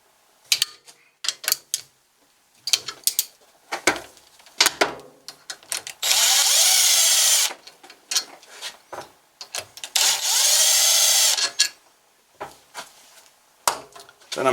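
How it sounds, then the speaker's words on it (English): Connecting rod cap fasteners held in a vise are loosened with a power tool: short ratcheting and clicking bursts, two sustained loud whirring runs of a few seconds each, and more scattered mechanical taps, close and dry. "And then I'm going to loosen all the fasteners."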